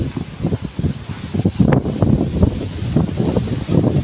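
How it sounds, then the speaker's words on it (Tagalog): Strong southwest monsoon wind from Typhoon Carina buffets the microphone with a steady gusty roar and rumbling thumps throughout, with no talking. "Basta hangin."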